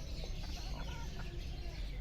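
Large, well-grown farm chickens not yet laying cluck in short murmured bursts under a steady, noisy outdoor background.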